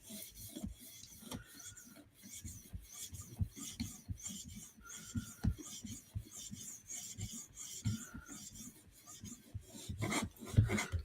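A knife blade being polished on an 800 grit sharpening stone gives repeated rhythmic gritty rasping strokes, close and fairly quiet, with a few louder knocks near the end.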